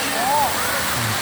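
Water rushes steadily from a fountain at the Kauswagan International Organic Convention Center, a dense, even splashing wash with a faint voice rising briefly over it.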